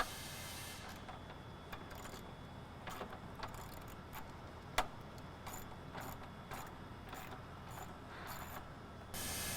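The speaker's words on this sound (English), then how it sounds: "Remove the bolt securing the airbox to the vehicle." A bolt holding the airbox of a 2015-2017 Ford F-150 5.0L is unscrewed with a ratchet. There are quiet repeated clicks and ratcheting ticks, with one sharper click midway, against a faint background hum.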